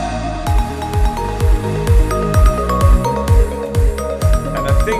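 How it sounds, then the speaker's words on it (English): The drop of an electronic dance track hits with a punchy kick drum thumping on a steady, even beat, layered under bright synth and bell tones, loud and without voices. "The kick drops."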